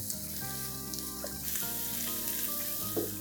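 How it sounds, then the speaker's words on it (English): Masala frying in oil on a high flame while being mixed for a mushroom curry, a soft continuous sizzle under a steady tonal hum, with no speech. "let's whack the flame on a high and continue mixing"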